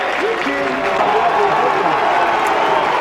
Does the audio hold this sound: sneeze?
no